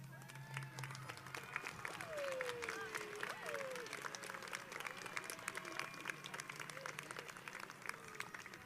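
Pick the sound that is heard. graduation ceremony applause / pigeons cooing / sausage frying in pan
graduation ceremony applause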